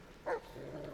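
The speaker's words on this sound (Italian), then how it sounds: "Di qua c'è un cane." A dog in the Metal Gear Solid Delta: Snake Eater video game gives a single short, faint bark, followed by low ambient hum.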